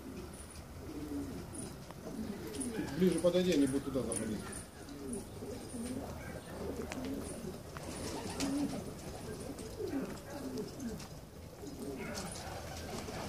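Pigeons of a unique breed coo close by in a steady, low, bubbling murmur, mixed with a few chirps, while people talk over them the whole time.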